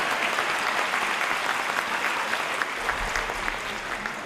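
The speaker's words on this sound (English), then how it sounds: "give him a round of applause, Alex Cavalier" Crowd applause for a student receiving a Certificate of Excellence at an 8th grade moving-up ceremony: dense, even clapping from a large audience that holds steady throughout the few seconds.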